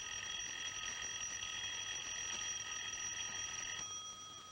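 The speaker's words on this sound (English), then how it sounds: "The bell's ringing, Mr. Jimson." A doorbell rings steadily at moderate volume indoors in a late-1950s film scene, one continuous electric ring that cuts off near the end, with no talking.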